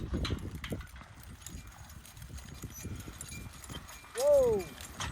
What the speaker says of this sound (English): I love how this horse drives single.